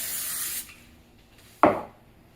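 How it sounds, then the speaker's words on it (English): Cooking spray hisses from a can onto a baking pan being greased for homemade biscuits, one long steady spray followed after a pause by a second, shorter, sharper burst, close and alone without talk. "I'm just going to spray it"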